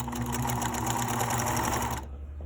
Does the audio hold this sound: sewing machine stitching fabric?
yes